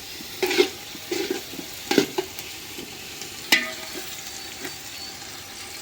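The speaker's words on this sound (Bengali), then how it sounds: "পেঁয়াজ মরিচটা সুন্দর করে ভাজা নিলাম" Onions and green chilies fry in a pan, a soft background sizzle broken by several brief, sharp bursts of stirring and spatula scrapes, close and quiet, with no voices.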